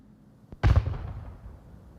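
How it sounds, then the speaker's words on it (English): A flashbang grenade detonates in the VR shooter Onward, one sharp loud burst with a faint click just before it and a ringing, decaying tail that fades over the following second. "Perfect flashbang, but he's not gonna act on it."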